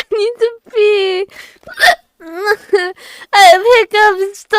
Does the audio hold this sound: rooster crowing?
no